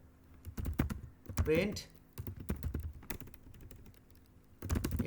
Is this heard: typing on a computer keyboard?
yes